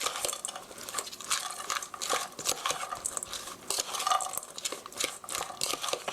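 A spoon stirs a mushroom pancake mixture seasoned with black pepper in a bowl, quick irregular clicks and scrapes of utensil against dish, close and fairly quiet.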